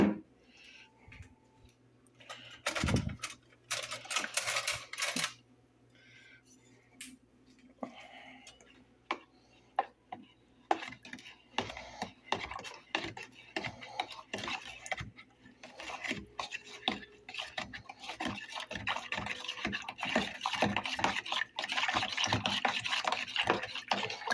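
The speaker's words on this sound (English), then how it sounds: "Now time to stir it." Kool-Aid gets stirred into water with a spoon, giving quiet, irregular scraping, rubbing and ticking scrapes against the container that quicken and grow busier toward the end, close and fairly faint.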